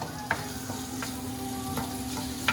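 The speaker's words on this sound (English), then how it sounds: "And I'm going to start with the Vidalia onions first. I'm going to sweat them a little bit." Vidalia onions sweating in a pan over high heat, a steady low sizzle running throughout with a few soft clicks of stirring, close and moderately quiet.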